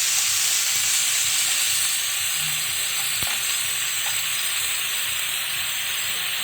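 Pat shak curry greens with salt, turmeric and chillies frying in a pan give a loud, steady sizzle and hiss that runs through the whole stretch without a break, with a single sharp click near the middle.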